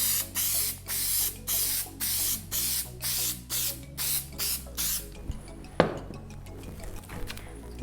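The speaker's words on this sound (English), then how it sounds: "And spray adhesive these together now too." Repeated short hissing bursts from a can of spray adhesive, about ten evenly spaced sprays while preparing scroll saw work, followed by a few soft handling clicks and a sharper tap.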